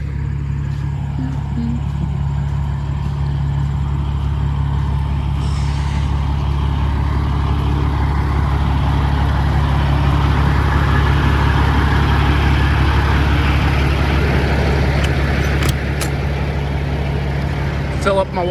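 An owner-operator semi truck's diesel engine idling steadily up close, a constant low rumble that runs the whole time, with some faint background noise over it.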